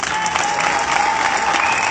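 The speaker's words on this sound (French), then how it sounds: "On applaudit encore très fort" Sustained, loud crowd applause at a Gabonese political resistance gathering, steady dense clapping throughout with no pause.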